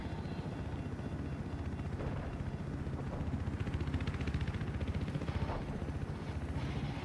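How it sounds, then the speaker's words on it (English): Stolen helicopter in the video game Grand Theft Auto, a steady loud rotor and engine drone running throughout with a faint rhythmic chop and occasional small bursts over it. "With a stolen helicopter."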